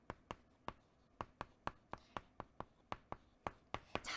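Pen or marker strokes on paper during a science lesson, a rapid series of about fifteen crisp, evenly spaced taps and scratches, close to the microphone, with no talk over them.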